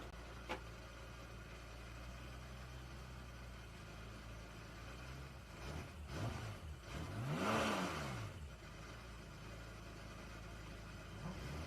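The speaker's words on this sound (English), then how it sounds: "Stop revving your engine." A race car engine in the grid before a CSCC BMW Championship race at Oulton Park idles quietly, then a short burst of revving swells and fades at a moderate distance.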